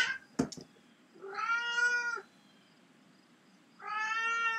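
A cat meows twice, close and clear, with long drawn-out calls separated by a pause, after a couple of short clicks at the start, over a quiet low background hum.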